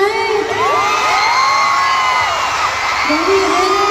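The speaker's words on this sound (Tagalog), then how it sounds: "Grabe yung crowd tonight!" Concert crowd at an evening Puregold show cheering loudly and continuously, with high shrieks and whoops from the audience filling the whole stretch.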